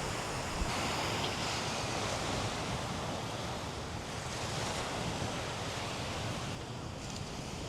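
Surf breaking and washing steadily on Nusa Dua beach in Bali, a continuous broadband roar with wind buffeting the microphone, no speech over it.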